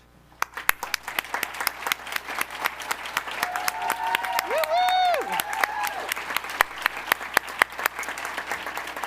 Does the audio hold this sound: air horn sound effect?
no